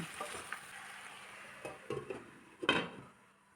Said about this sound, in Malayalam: ഇനി കിഴങ്ങും വഴുതനങ്ങായും എല്ലാം നല്ലവണ്ണം ഒന്ന് മിക്സ് ആകുന്നത് പോലെ ഇളക്കി കൊടുത്ത ശേഷം അടച്ചു വെച്ച് ഒന്ന് വേവിച്ചെടുക്കാം